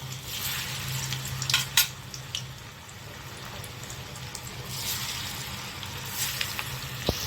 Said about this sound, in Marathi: आता ह्याच्यामध्ये आपल्याला ह्या वड्या सोडायच्या आहेत